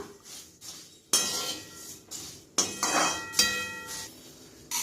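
Dry puffed rice (pori) tossed in a hot pan, with a few bright metallic clinks and scraping clatters in short bursts, no talking.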